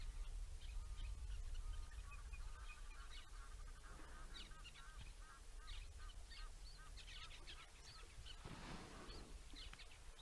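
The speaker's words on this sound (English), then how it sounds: "I can hear an Egyptian goose now." An Egyptian goose gives repeated honking calls at a distance at sunset over a constant outdoor background hum, with other birds chirping faintly.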